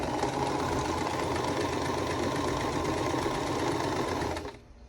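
A sewing machine stitches a quilt block in one steady, loud, continuous mechanical whir with a fast rhythmic knock. It runs close and unbroken for several seconds, then stops abruptly near the end.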